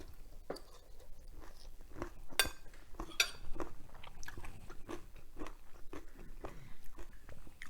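A close-up eating session of Thai spicy cucumber salad with crispy fish brings crisp bites and wet chewing, punctuated by a couple of sharp utensil clinks against a dish, all close and intimate with no speech.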